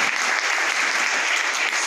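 A hall audience applauds a student's felicitation at a tenth-grade merit ceremony, with dense, continuous clapping holding steady and fairly loud with no voices on top.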